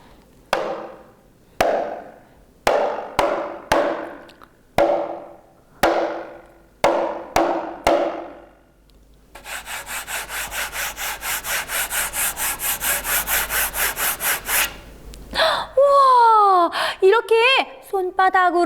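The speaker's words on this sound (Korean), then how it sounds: "손로 두드리면 둥둥둥둥둥둥 소리가 나고요. 이렇게 문질러도 신기한 소리가 나는 이 악기의 이름은 칼라 핸드 드럼." A colour hand drum is struck by hand in a run of about ten separate thumps. It is then rubbed, giving a steady rhythmic scraping that ends in squeaky rubbing sounds.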